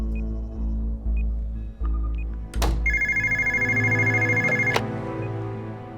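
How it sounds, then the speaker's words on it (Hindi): A telephone rings with repeated electronic trills, loud and close, over a steady low hum in a mission control room during a launch countdown. "लॉन्च साइड से फोन है।"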